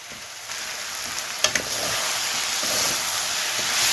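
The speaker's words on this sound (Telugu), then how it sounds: "కొంచెం బాగా వేగాలండి ఈ బెండకాయది వేగాలి" Okra pieces frying for a tamarind pulusu with colocasia, giving a loud, dense, continuous sizzle and hiss that holds steady throughout, with a couple of brief clicks partway through.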